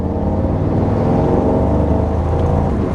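A 2024 Mercedes-AMG GT 63 Coupe in Sport Plus mode revs loudly up close, its deep engine roar rising and holding with a rich rumbling growl and no talking over it.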